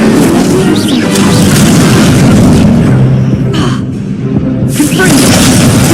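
Fire spell blasts cast in Hogwarts Legacy, heavy booming bursts layered over a constant wash of game noise and music, with a few sharper bangs partway through and voices faintly present.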